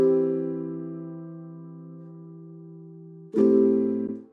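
Lofi chord progression without passing notes: a long held chord slowly fading, then a single abrupt change to a new chord, played alone and close without any voices.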